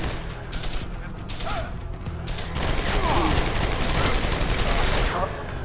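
Unsilenced sniper rifle shots and rapid gunfire burst repeatedly in Deus Ex: Human Revolution, sharp loud cracks in quick clusters over game background noise, with a voice talking under them.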